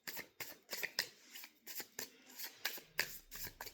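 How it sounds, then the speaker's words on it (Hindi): Rapid riffle shuffles of a Neem Karoli Baba oracle card deck, a string of close, crisp flutters and slaps repeating in quick rhythm, nearby and alone with no talk. "नीम करोली बाबा का ये डेक मेरे पास है"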